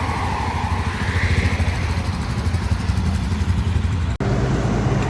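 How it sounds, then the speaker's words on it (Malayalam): Steady rumble of motor vehicles on a road, engines droning continuously with no pause, close and fairly loud throughout. "ഒരുപാട് വണ്ടികൾ കുറേ വണ്ടികൾ പോയി"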